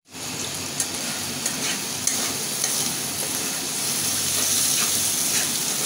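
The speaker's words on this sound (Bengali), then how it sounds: "মশলাটার সাথে আমি চিংড়ি মাছটা ভালো করে কষিয়ে নেব।" Shrimp being fried and stirred with spice paste in a pan, a close, constant hissing sizzle with occasional light scrapes from stirring.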